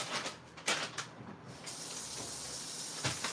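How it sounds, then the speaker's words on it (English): Asparagus is rinsed under a running kitchen tap, with faint, steady water flow and a few soft splashy bursts as the stream hits the spears. "So I'm going to rinse this off really quickly."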